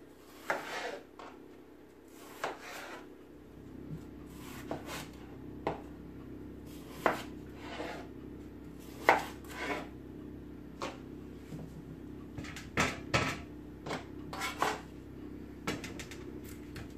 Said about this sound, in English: I'm just gonna cut up these potatoes